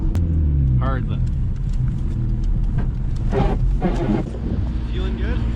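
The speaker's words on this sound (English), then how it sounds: "When you drive front wheel drive, Nick, you gotta make sure you bounce over the bumps real hard." A manual front-wheel-drive car bouncing hard over road bumps, a loud continuous engine and road rumble close to the microphone with thumps from the suspension, while voices talk over it.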